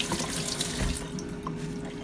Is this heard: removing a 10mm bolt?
no